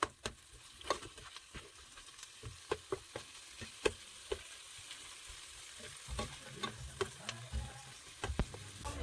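Beef browning in a pan with a soft steady sizzle, broken by frequent sharp clicks and taps of a utensil stirring, quiet and close with no voices.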